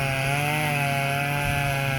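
A chainsaw cutting up a tree roars continuously at high revs, close and loud, its steady buzzing engine tone barely wavering for the whole stretch.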